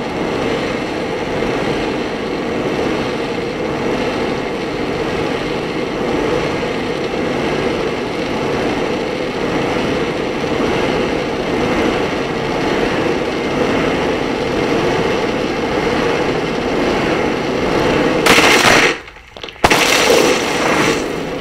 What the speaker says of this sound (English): what the tag actually sounds like as the water is flowing and this animal is swimming fast